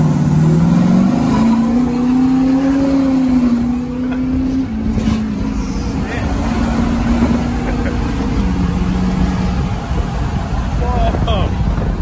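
A 1200-horsepower Duramax diesel pickup truck engine revs and accelerates hard, a loud rising drone that holds and then eases back, with faint voices underneath.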